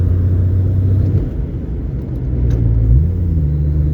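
A 1972 Triumph TR6 rolling across a bumpy bridge, a loud, close engine rumble with low thuds and a shift in pitch partway through.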